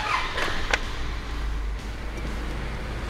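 A lifted old-school Toyota Hilux Surf on the move gives a steady low engine and road rumble, with a few faint clicks and knocks early on and no talking.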